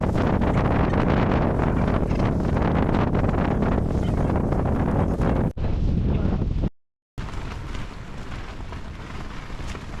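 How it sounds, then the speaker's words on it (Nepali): Strong wind blasts across a tent camp in the mountains, roaring and buffeting the microphone loudly without pause, then briefly cutting out before the gusting rumble returns. "हावा चलाएको छ रातभरि नै"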